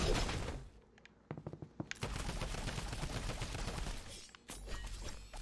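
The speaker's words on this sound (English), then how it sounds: "Give me my drum gun." Drum gun in a video game firing rapid bursts of automatic gunfire, with dense rattling volleys and short pauses between them, fairly quiet overall.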